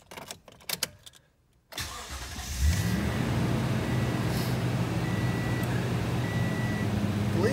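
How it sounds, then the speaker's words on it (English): A 2016 Toyota Tundra CrewMax pickup engine cranks over briefly after some faint knocks, then catches and settles into a steady, close idle rumble that continues to the end. "Let's go ahead and start the truck up."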